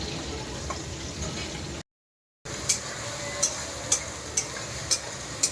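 Onions and green chillies fry in oil with whole spices like cumin, dry chillies and bay leaf for doi katla, a low close sizzle with a brief dropout and then a run of regular light ticks from stirring.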